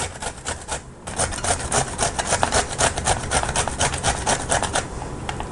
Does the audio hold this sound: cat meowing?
no